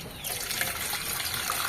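Water pours steadily onto tamarind in a bowl to make sour pani puri water, a short close trickle and splash with no talk over it.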